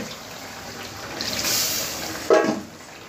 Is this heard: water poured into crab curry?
yes